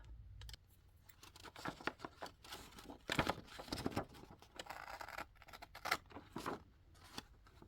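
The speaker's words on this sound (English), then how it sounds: "And then we're just going to cut these edges off." Scissors snip off the edges of paper for an upcycled handmade journal, a run of close, crisp cuts and rustling paper that come in irregular bursts with short pauses between them.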